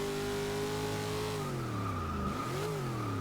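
AMC AMX muscle car in Forza Motorsport 6 driving hard, its engine drone steady and loud before the pitch dips and swoops as the tyres squeal through a skid.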